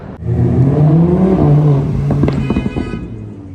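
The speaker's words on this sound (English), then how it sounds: "Casual Huracan passing." A Lamborghini Huracan passes on a Beverly Hills street, its engine swelling loud and close as it goes by, then fading with a descending tone.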